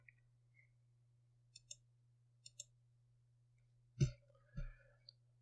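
A computer mouse is double-clicked while editing RAW photos in Capture One, with paired small clicks near the middle, then two louder thumps, all faint over a steady low hum.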